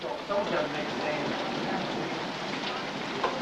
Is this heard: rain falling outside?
yes